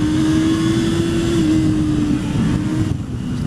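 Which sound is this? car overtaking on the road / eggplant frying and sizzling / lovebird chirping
car overtaking on the road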